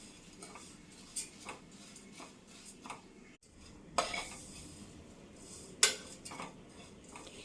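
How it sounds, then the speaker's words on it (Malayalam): Beaten rice (aval) being stirred in ghee in a pan over low flame, giving soft scrapes and a few sharper clinks of a spoon against the metal, fairly quiet and spaced out, with no talk. "ലോ ഫ്ലെയിമിൽ വെച്ചിട്ട് ഒന്ന് ഇളക്കി കൊടുക്കണം."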